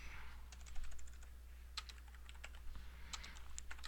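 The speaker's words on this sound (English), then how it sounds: "I'm going to type in that address" Close typing on a computer keyboard, a quick irregular patter of light key clicks in short bursts over a low steady hum, with no voice.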